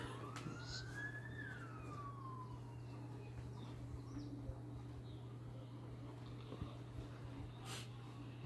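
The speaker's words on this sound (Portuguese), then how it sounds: "Ambulância do SAMU chegando." A SAMU ambulance siren wails as it arrives near a school attack scene in Espírito Santo, Brazil, a faint, distant rising-and-falling tone early on over a steady low hum and background noise.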